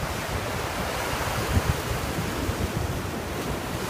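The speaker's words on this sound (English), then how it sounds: "Look at the strength of the waves." Ocean surf roars steadily with broadband rushing noise, individual waves breaking and washing in at a close, constant loudness with no voices.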